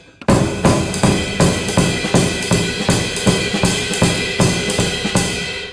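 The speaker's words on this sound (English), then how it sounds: "If your bass drum sounds like this," A full drum kit playing a steady groove, with the bass drum thumping loudly on each beat beneath cymbals and snare, close and punchy.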